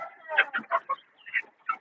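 Fighter roosters and village poultry at a farm give a quick series of short clucks and throaty calls, about eight separate bursts close by, with brief gaps between them.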